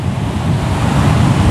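Waves break on a beach with a dense, continuous wash of surf close by, mixed with gusting wind buffeting the microphone, and no voices.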